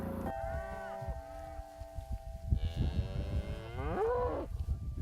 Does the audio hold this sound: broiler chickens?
no